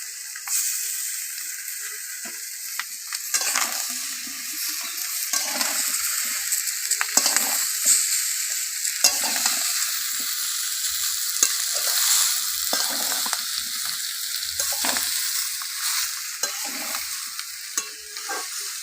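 Malabar spinach being sautéed with fish head and roe in a pan, a steady close sizzle and frying hiss with repeated scraping stir strokes throughout, no talking.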